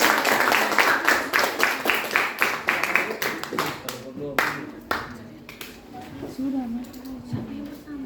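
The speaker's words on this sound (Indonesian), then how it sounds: "Kita beri aplaus dulu untuk kelompok 1." Classroom group applause after a student group's presentation, many hands clapping fairly loud and dense at first, then thinning into scattered claps as a voice begins talking underneath.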